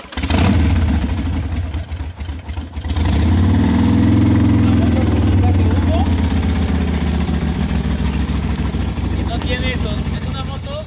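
A loud Harley motorcycle at a motorcycle club meet idles with a deep, throbbing rumble, cuts briefly, then catches again and revs hard before settling into a steady idle, with voices talking nearby.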